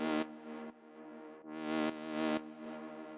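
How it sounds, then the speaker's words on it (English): A tech house second lead built from two detuned saw waves plays bright, buzzy sustained notes, rising and swelling with filter sweeps, alone and clear. "The next sound we have here is the second lead"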